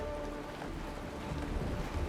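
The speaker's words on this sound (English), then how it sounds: "Mommy, the rain. It's raining." Rain falls in the Honkai Star Rail video game as a steady, dense patter and hiss, continuous and moderately quiet, with no voices.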